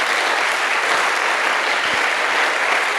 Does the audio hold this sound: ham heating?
no